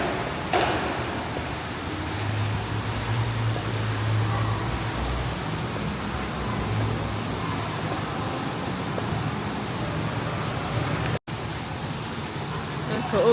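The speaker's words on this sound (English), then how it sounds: "Look at all this rain." Steady heavy rain pours down outdoors at a Florida theme park, Universal Orlando, a dense, continuous hiss that fills the whole stretch with little variation.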